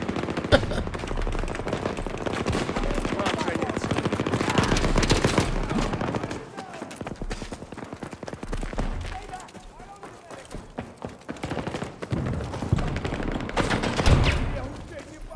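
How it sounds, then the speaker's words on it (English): Video game gunfire in Battlefield 2042 team deathmatch, dense rapid automatic bursts and single shots close up, thinning briefly mid-way before picking up again, with a player talking over the action. "Somebody shooting at me?"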